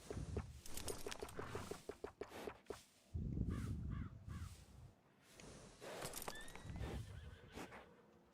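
Horse in Red Dead Redemption 2 giving loud whinnies and snorts alongside clip-clopping hooves, with crows cawing in the background.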